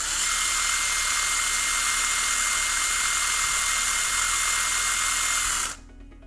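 A power drill spinning a sanding pad whirs at a steady high pitch for several seconds, spinning continuously, then abruptly stops.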